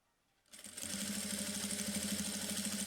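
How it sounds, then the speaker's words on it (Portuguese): After a brief hush, a sewing machine starts up and runs slowly and steadily, stitching a quilted placemat with an even mechanical whir and rhythmic needle clatter up close. "Costuro devagar."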